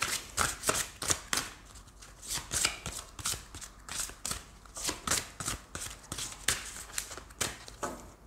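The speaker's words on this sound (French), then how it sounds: "on va prendre quelques cartes de l'oracle Dis-moi que tu m'aimes" Oracle cards from the deck "Dis-moi que tu m'aimes" are shuffled in steady, rhythmic riffles, close and crisp, one burst after another with no talking.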